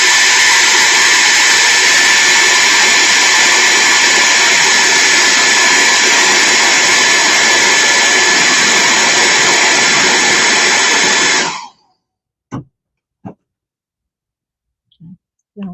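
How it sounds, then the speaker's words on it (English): A hair dryer blows steadily and loudly for about eleven seconds, drying paint on a turtle painting, then cuts off abruptly, leaving a few faint clicks and taps in near silence. "I'm going to blow dry that because"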